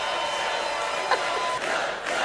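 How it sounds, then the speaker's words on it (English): A large crowd at a political speech cheers and roars in a steady, dense wash of voices that holds loud throughout with little variation. "Why are they cheering that?"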